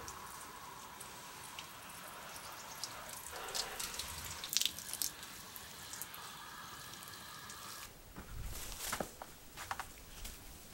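Water runs and drips steadily into a garden bed for about eleven seconds, a soft continuous splash with a few louder spatters near the end, close by and with no one talking.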